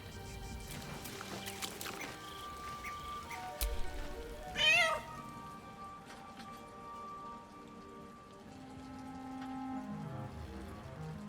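In the video game Baldur's Gate 3, a cat gives a single clear meow, set against soft rain pattering on surfaces and faint background game music.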